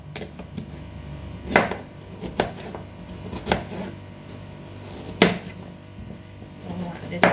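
A knife chops ginger and carrots on a board in a home kitchen. The cuts come as separate, fairly close thuds at an uneven, slow pace against a low background hum.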